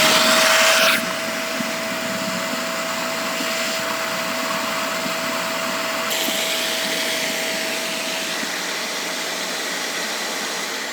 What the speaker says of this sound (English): you turn the machines back on and run cleaning solution through the hoses